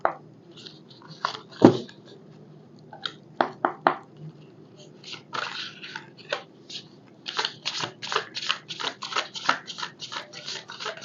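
A tarot deck is handled up close, with a sharp snap early on and then a run of quick papery riffles and shuffling flicks as cards are cut and one is drawn, and no voices.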